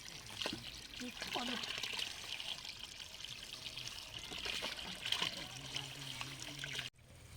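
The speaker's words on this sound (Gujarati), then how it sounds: "પાણી તો જબર આવે છે" Tap water running steadily and strongly, a continuous splashing trickle that stays loud throughout, with voices talking over it and a brief cutoff near the end.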